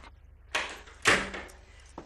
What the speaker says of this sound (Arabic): خديجه تفتح، خديجه تفتح.